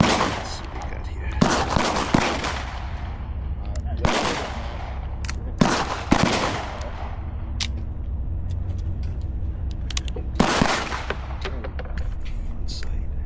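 Colt Python revolver fired at an outdoor shooting range, several loud sharp reports at irregular intervals with distant shots from other shooters and a steady background rumble.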